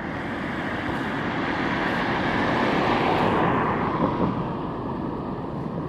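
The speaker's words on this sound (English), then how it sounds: "Busy time for planes landing right now." A large airplane comes in to land low overhead above L'Assomption Boulevard in east Montreal, producing a loud, continuous broadband roar that swells slightly in the middle and then holds steady.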